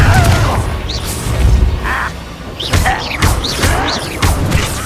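Fiery Confringo blast spell from Hogwarts Legacy, with several loud booming impacts and crashes recurring across the clip amid busy game noise, while some voice chatter sounds faintly.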